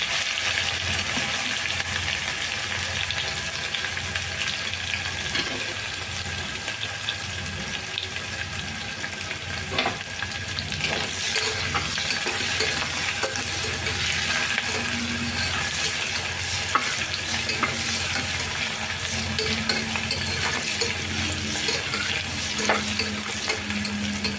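Cumin seeds splutter and fry with onion in a pan, a continuous close sizzle broken by small pops and occasional stirring scrapes.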